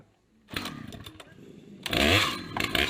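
A warm chainsaw engine starts up and idles in a rough, steady putter, then revs loudly for a second or so before settling back toward idle, close by with no talking.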